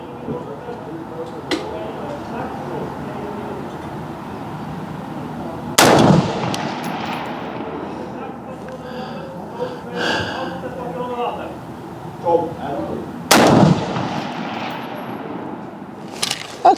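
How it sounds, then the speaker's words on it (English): Two sharp, loud cracks from a Fightlite SCR rifle fired on a 300-meter range stand out several seconds apart, each a sudden close report, while someone talks quietly between shots. "and then I will shoot off my elbows"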